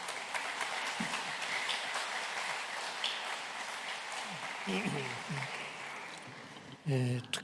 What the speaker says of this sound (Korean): 여러분 큰 환영의 박수 한번 해주시면 고맙겠습니다.